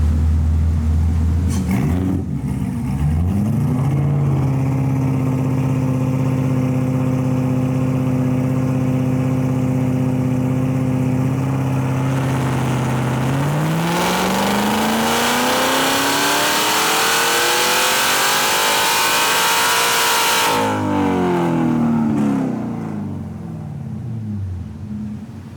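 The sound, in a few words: Corvette Z06 engine revving during dyno pull with methanol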